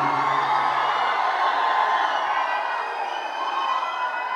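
A large crowd at a Telugu film pre-release event cheers and shouts in a dense, continuous roar, loud and unbroken throughout.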